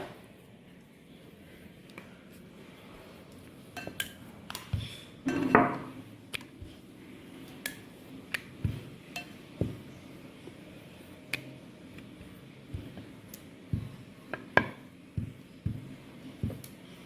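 Luchi dough is rolled out with a rolling pin on a board, giving soft, regular thuds and light knocks that repeat evenly, close and fairly quiet, with no talk.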